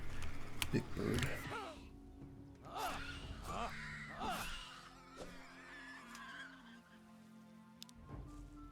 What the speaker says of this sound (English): And another bird.